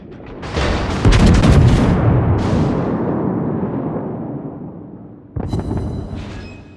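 A battleship broadside in World of Warships, from the New York, lets out a thunderous booming barrage that rumbles for several seconds. A second sharp blast follows near the end.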